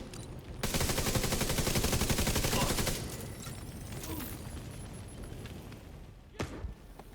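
Sustained rapid gunfire in a video game as the player tries to shoot something out of the air, a dense burst for a few seconds that eases into lighter shots and a sharp crack near the end.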